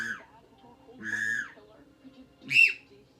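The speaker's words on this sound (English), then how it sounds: "Then I got my whistle call here." A hunter's whistle call sounded in three short, reedy notes spaced apart, the last one brighter and higher, heard close in a quiet setting.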